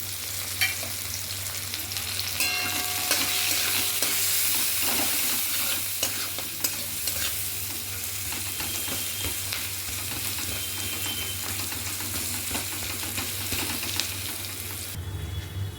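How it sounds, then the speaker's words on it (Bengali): Onions frying in hot refined oil in a wok, a steady loud sizzle and crackle that runs nearly unbroken throughout, with occasional stirring scrapes and no voices. "আমি কড়াইয়ে রিফাইন তেল গরম করে আমি পেঁয়াজ ছেড়ে দিচ্ছি"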